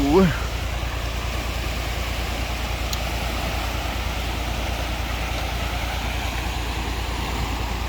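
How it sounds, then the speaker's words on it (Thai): Rushing floodwater pours over a waterfall during a flood, with a heavy excavator working nearby to build an earthen dike; a loud, steady broadband roar fills the whole clip, with a brief voice at the start. "น้ำตกครับ"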